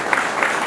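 An audience at a visit to a Macedonia care centre for the elderly and mentally ill claps, a brief burst of close, loud applause with a few accented claps.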